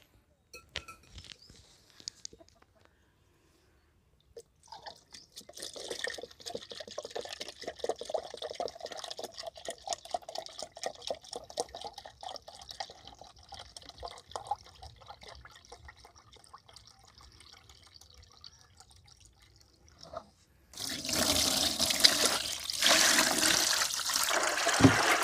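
Cow urine poured from a vessel into a container while making panchagavya, a steady close trickle and splashing that runs for about fifteen seconds, then gives way to a louder, rushing gush of liquid.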